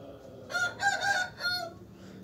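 A five-year-old Aseel rooster, a three-time champion, crows once nearby, a loud multi-part cock-a-doodle-doo lasting over a second against a quiet background.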